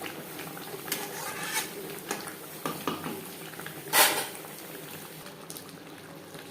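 Chicken pieces simmering in a pot of bhuna curry, a soft steady bubbling with occasional utensil clinks and scrapes, and one brief louder clatter near the middle.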